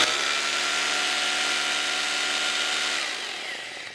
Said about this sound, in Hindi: मैं अभी ड्रिल को चला रहा हूँ।